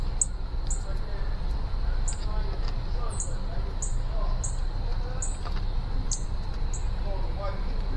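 Birds chirp in short, high, regular calls about every half second, picked up by the microphone of a Reconyx Hyperfire 4K trail camera, over a steady low background murmur.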